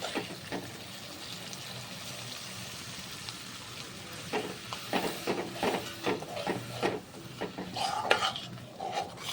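A cabbage dish with milk, paste and sugar is sautéed in a pan, with a soft sizzle at first, then a rapid run of close spatula scrapes and clinks against the pan growing busier toward the end.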